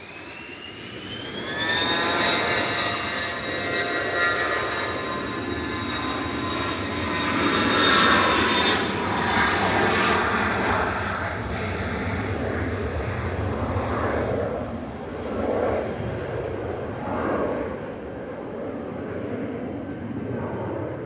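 A jet airliner leaving Manchester Airport for London Luton roars with a rising whine as it powers down the runway, the engine noise holding strong and then slowly fading into a distant rumble.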